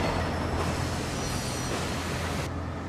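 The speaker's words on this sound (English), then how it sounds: "Shunt this goods train in the yard here, please." Steady loud rumble of a goods train being shunted slowly in a yard, with broadband rattling and clanking throughout and no voices.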